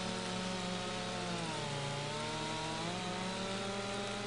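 A chainsaw cuts up a felled tree in Farming Simulator 25, its steady high-revving engine whine running loud and continuous throughout with a slight dip in pitch as the blade bites into the wood.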